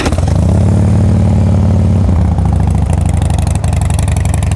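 A 2006 Harley-Davidson Softail Standard FXST idles close by. Its fuel-injected Twin Cam 88 with a 5-speed gives a steady, loud, lumpy rumble with mechanical clatter and no talking.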